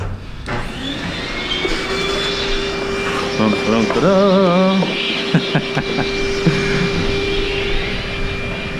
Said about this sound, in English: We'll just give you a quick example of how to clean it with the vacuum.